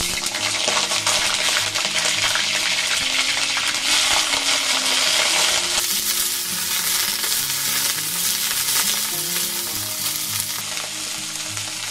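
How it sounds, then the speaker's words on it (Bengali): Cauliflower frying in mustard oil: a loud, steady, crackling sizzle that fills the whole stretch without pause, close up, with no voices. "এবার আমি এই তেলের মধ্যে দিয়ে দিচ্ছি ফুলকপিগুলো একটু ভেজে নেব"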